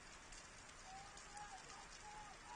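Steady rain falls over an outdoor football match, a constant faint hiss of drops on surfaces heard at a distance with no clear speech.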